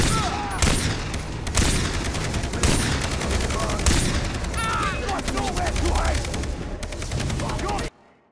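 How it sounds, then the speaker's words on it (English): Gunfire in the video game Far Cry 3: dense, loud bursts of automatic fire with sharp shots and booms repeating almost continuously, a voice calling out over the shooting, cutting off abruptly near the end. "I'm getting shot at!"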